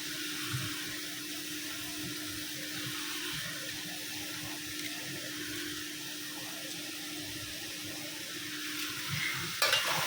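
Meat being stirred with spices in a frying pan, a steady soft sizzle with faint scraping throughout, close and continuous with no talk.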